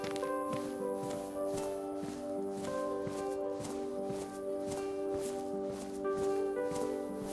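A character walks in KinshipRP, crossing grass and then cement, producing a regular train of soft, even footfalls beneath a continuous sustained musical drone.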